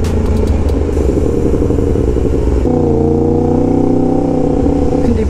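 A Yamaha MT-10 motorcycle engine runs loud and close, a rough, throbbing idle that steps down in pitch partway through and holds steady, with no voices.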